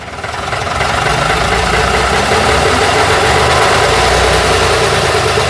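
Routemaster bus diesel engine idling loud and close, a steady rough, knocking rumble that swells slightly at the start and then holds even, no voices.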